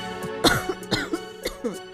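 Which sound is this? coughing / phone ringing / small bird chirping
coughing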